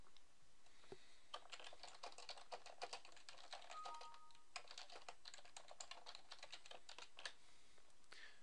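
Quiet, close tapping of a computer keyboard as a message is typed, an irregular run of key clicks with brief pauses and no voices.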